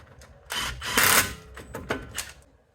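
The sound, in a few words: ratchet tightening truck wheel hub bolts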